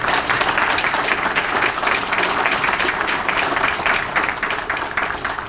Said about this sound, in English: So give our training cadre a round of applause.